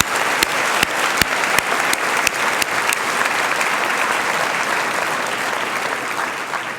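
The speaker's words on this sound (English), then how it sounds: "So let's give him another Central Ohio round of applause." An audience at a Central Ohio regional State of the Region event gives a round of applause. The clapping is dense and sustained throughout, with a few sharp, louder claps standing out near the start.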